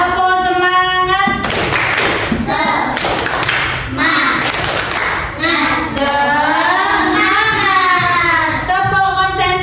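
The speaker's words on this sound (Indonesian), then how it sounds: "Tepuk semangat." Classroom group clapping with children's voices, a rhythmic cheer-style clap pattern of bursts between sung or chanted speech, loud and close.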